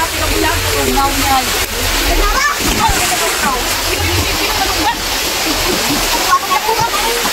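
Water of a rocky stream used as a swimming spot rushes and splashes steadily, a loud, close, continuous wash with people talking over it.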